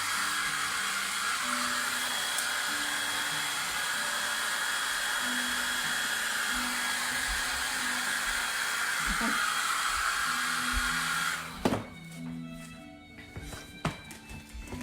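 A hair dryer blows steadily on the back of a transfer for about eleven seconds, a loud constant whoosh, then cuts off, leaving a few soft clicks and handling noises.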